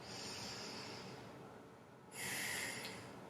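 Deep breaths taken while holding a yoga pose, soft and close: a long airy exhale followed by a sharper, brighter inhale near the end.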